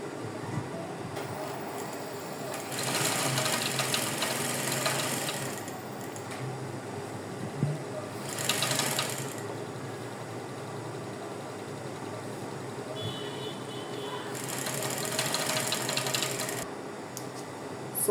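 A sewing machine stitches a garment neckline in three separate runs of rapid mechanical whirring, with quieter handling noise between the bursts.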